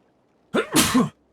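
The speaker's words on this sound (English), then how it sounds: "I'm going to sneeze again." A single sharp sneeze from a man, a quick two-part burst with an inhale and explosive release, heard close and alone against near silence.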